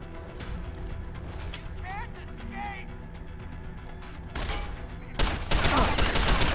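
Automated turret opening fire in Deus Ex: Human Revolution, a dense burst of rapid gunfire that erupts loudly in the last second and a half, following quieter game noise with voices underneath.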